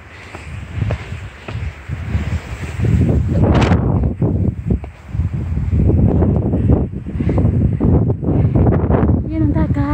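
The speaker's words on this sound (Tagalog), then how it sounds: "Grabing hangin, oh. Mahangin." Strong mountain wind on Lantau Peak, Hong Kong, buffets the microphone in loud, gusty bursts, with a person talking and breathing heavily under the roar.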